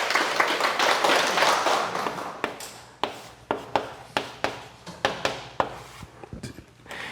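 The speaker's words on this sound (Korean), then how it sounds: "큰 박수 부탁드립니다" A small audience applauds, dense clapping at first that thins out into a handful of separate, sharp hand claps fading toward the end.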